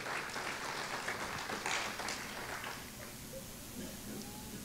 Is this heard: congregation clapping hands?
yes